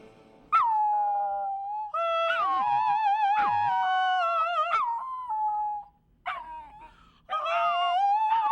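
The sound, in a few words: dog singing like an opera singer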